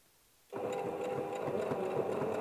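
A domestic sewing machine starts abruptly and runs at a steady, even hum, stitching along the button front of a ruffle shirt, close up and continuous with no talk.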